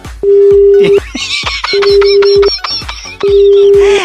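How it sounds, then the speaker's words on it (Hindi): Repeated beeping tone on a phone line after a call is cut off during a radio prank call, steady tone bursts alternating with short gaps, with a voice talking over parts of it. "इन्होंने तो फोन काट दिया है"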